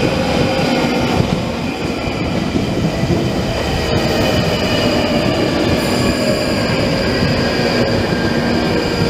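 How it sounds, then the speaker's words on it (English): A London Underground tube train pulls into a platform with a loud, sustained rumble, metallic wheel squeal and rail clatter echoing close by. "Train now approaching is to Edgewell. Please stand back."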